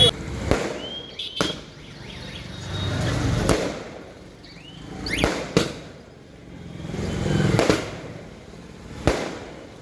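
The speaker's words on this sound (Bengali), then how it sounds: "আতশবাজি ফাটিয়ে উচ্ছ্বাস কর্মীদের" Fireworks bursting at a Trinamool party workers' celebration in Medinipur, sharp loud cracks spaced a couple of seconds apart over a rumbling crowd and traffic background.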